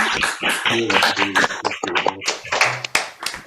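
Applause from an online recital audience, a spread of hand claps from several people mixed with overlapping voices talking at the same time, fairly loud and continuous for a few seconds.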